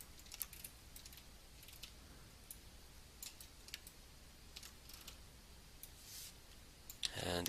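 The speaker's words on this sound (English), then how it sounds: "hit scale on the keyboard" Keys on a computer keyboard are pressed in sparse, quiet clicks with irregular gaps over low background hiss, ending in a quick cluster of taps.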